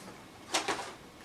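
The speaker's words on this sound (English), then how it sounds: "I'll put this in my drawer." A drawer sliding open or shut, a quick pair of soft wooden scrapes close by, brief and moderately loud over faint room noise without any talking.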